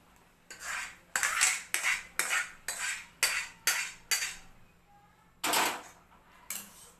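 A metal ladle scoops tangy Maharashtrian yogurt kadhi into a cooking pot, knocking against the vessel in about ten sharp, evenly spaced clinks. A short pause comes near the end before two more clinks. No one speaks.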